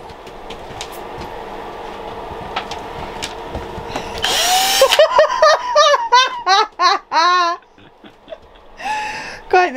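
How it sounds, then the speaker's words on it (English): A power drill drills into wood in several short bursts, whirring and rising and falling in pitch as it bites, after a stretch of background chatter and noise, during a campervan bed build. "now get the old drill and do it"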